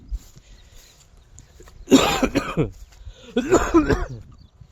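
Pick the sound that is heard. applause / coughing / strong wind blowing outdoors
coughing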